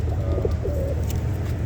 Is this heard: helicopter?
no